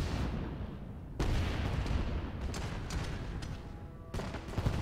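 Ship cannons firing in the naval game Leviathan Warships, a heavy broadband blast at about one second followed by a sustained rumble and several sharper, lighter shots, with another burst near the end.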